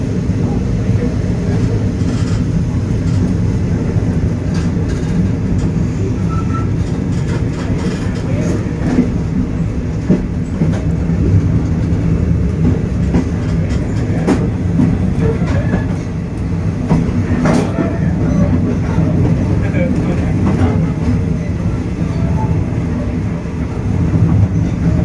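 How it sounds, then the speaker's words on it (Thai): A Thai express train rumbles steadily along the rails, with continuous low rolling noise and faint rhythmic clacking throughout, heard from inside the carriage. "ตอนนี้อยู่บนรถด่วน51"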